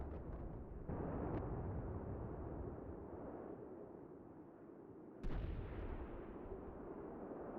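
Artillery and mortar fire in the Combat Mission: Barbarossa to Berlin winter battle: a continuous low rumbling barrage with heavy booms, and a sharp louder blast near the end, with no talking.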